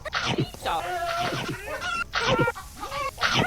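A cartoon chicken clucks in the video game Mad Chef, several bursts of close, loud clucking sounds with pauses between them, over a faint game backdrop.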